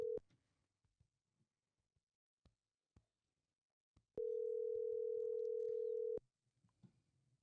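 An outgoing phone call on a live podcast gives one steady ringback tone lasting about two seconds, loud and clear against a near-silent background with faint small sounds.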